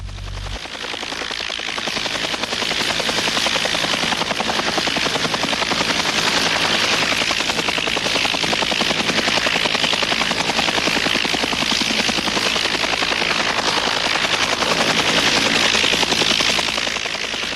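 Military attack helicopter gunships fly overhead in a loud, steady roar of beating rotors and turbine whine that swells in and then holds close and constant for the whole stretch.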